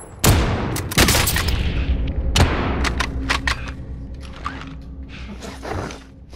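Incoming rounds blasting in an online duos shooter match, a string of loud booms and sharp gunfire cracks in the first few seconds, then scattered lighter impacts and mechanical clatter trailing off.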